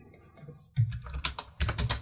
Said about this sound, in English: I'm actually typing meters into the object properties for the size here